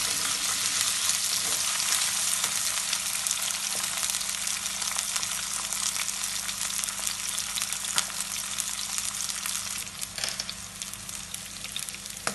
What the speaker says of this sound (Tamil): இப்போ பச்சை மிளகாய், கருவேப்பிலை எல்லாத்தையும் போட்டு நல்லா வதக்குறேன்.